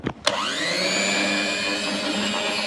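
An electric hand mixer whirs steadily and loudly, beating cake batter with baking powder and baking soda; after a brief start-up burst the motor runs continuously with no one speaking.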